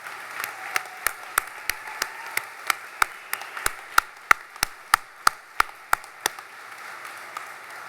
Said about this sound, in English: Please join me in a round of applause for our families, friends, and shipmates